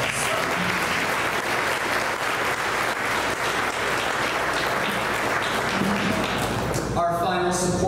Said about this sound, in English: Let's give Broadlawns a big round of applause